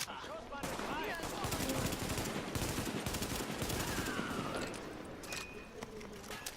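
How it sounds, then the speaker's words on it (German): Rapid bursts of gunfire in the video game The Division rattle almost continuously, dense and close, with a few sharper shots standing out near the end. "Ein Schuss, ein Treffer."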